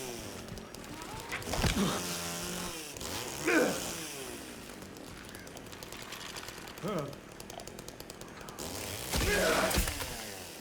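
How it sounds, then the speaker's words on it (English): Chainsaw attacks in the Silent Hill 2 Remake video game, a few loud mechanical bursts with rattling, grinding texture spread across the stretch, separated by quieter game noise. "Just lock on and hit the thing with the chainsaw."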